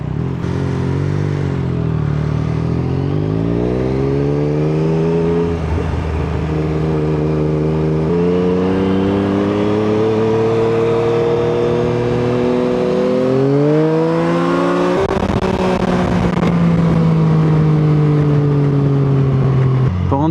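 A BMW S1000 XR sport-touring motorcycle rides and accelerates, its loud engine note climbing steadily through gears with rising whine and a brief shift near the end, close and continuous without talk.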